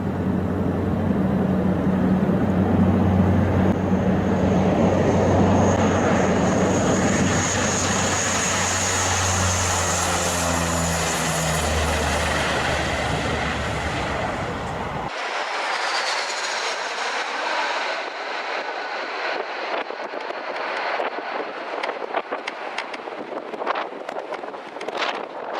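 A C-47 airplane roars loudly and steadily during takeoff at Bodaibo Airport, with heavy wind rush. Partway through, the sound shifts to a thinner, breezier engine noise.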